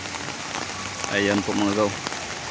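Rain falling steadily on a backyard vegetable garden at the start of the rainy season, a soft continuous patter under someone talking nearby.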